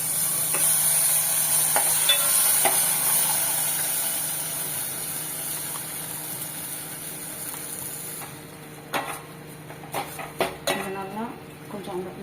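Kitchen clatter and stirring as ground paste is poured into a pan of sautéing onions for mushroom gravy, with a soft steady hiss underneath, then a few sharper scraping and clinking sounds near the end.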